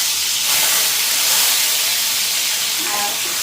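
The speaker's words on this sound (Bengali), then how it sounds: "আলুটা হালকা ফ্রাই করে নিই।" Potatoes fry in hot oil with cumin seeds and bay leaf, making a loud, broad, steady sizzling hiss close by, with faint low background murmurs underneath.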